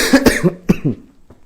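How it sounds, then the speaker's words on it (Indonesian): A few harsh coughs up close from someone with a sore throat, a rapid cluster followed by a couple more, then a faint final cough as it trails off. "Masih batuk pemirsa."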